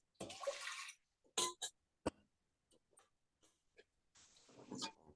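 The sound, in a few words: sushi rice being rinsed in a strainer, shaken back and forth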